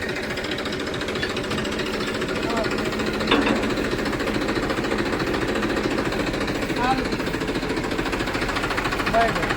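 A tractor engine runs steadily while a trolley is hitched to it, a loud continuous rattling drone throughout with a few brief clanks.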